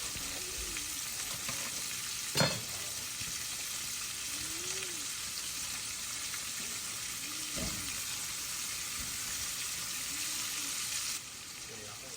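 Chunks of smoked tasso and sausage sizzling in a pot for red beans and rice, a loud steady hiss with a couple of sharp clinks and faint low murmurs of a voice underneath.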